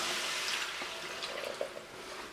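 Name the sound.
chicken stock being poured into a pan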